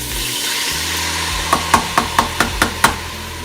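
Soy glaze sauce and broccoli frying in a hot pan, a steady loud sizzle with a quick run of about seven sharp metallic taps from a utensil striking the pan near the end.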